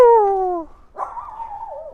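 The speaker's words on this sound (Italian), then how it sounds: "E poi pure qui c'è un bestione, c'è un cane grossissimo." A large dog in a courtyard gives a loud, close, drawn-out whining yelp that falls in pitch, then a wavering whimpering howl after a short gap.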